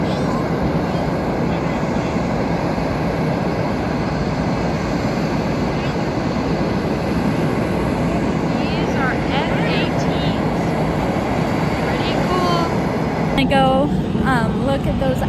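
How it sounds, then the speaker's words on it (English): Navy F-18 fighter jets on the ground refueling at Topeka Regional Airport, a loud steady engine roar filling the whole stretch, heard from nearby outdoors with occasional faint voices beneath it. "F-18s again that are refueling over here at the Topeka Regional Airport"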